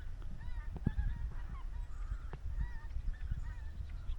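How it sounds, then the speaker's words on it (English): Geese honk repeatedly at a lake in October, a scattered chorus of calls from several birds at moderate distance over steady low outdoor rumble and wind. "all the geese are turning up"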